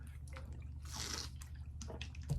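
A person takes a close drink of water, with soft wet sips and swallowing sounds over a low background hum.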